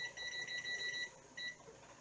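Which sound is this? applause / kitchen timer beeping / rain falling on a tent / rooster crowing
kitchen timer beeping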